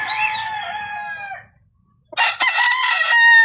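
A nine-month-old medium Golden Boy Sweater rooster crows twice, close and loud, with a long falling call that fades out, then a short silence before a second strong crow.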